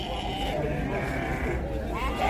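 Sheep bleat at a livestock fair for sheep in Cachoeirinha, Pernambuco, short wavering calls rising above a busy crowd background, with people talking nearby throughout.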